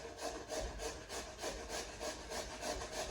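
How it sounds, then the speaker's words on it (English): A raw potato grated by hand against a kitchen grater in steady back-and-forth strokes, about eight rasping passes in three seconds, close and fairly loud with no talking. "So now I'm going to grate this potato."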